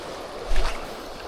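A steady rushing wash of fast river water breaking on the River Tweed, with a brief louder surge in the middle of the short stretch.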